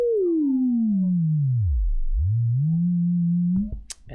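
A pure sine-wave tone from a Chrome Music Lab oscillator sweeps smoothly downward to a very low pitch, then climbs back and holds steady, ending with a few brief clicks.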